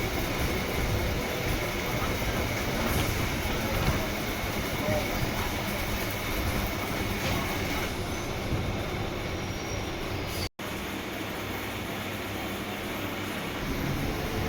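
A Chennai EMU suburban electric train runs at speed with a dense continuous rumble and rattle of wheels on track, heard from inside, steady throughout with a momentary dropout near the end.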